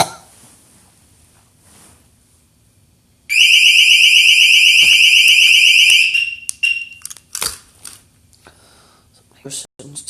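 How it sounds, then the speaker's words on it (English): A motion detector alarm sounds a loud, piercing electronic tone for about three seconds, then cuts off into scattered clicks and knocks, with quiet indoor background before and after. "Motion detector."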